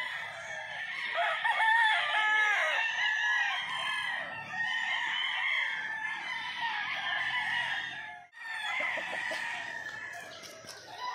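Several White Kelso and sweater roosters crow one after another at a gamefowl farm, loud and close, their overlapping cock-a-doodle-doos running with few breaks and no talk.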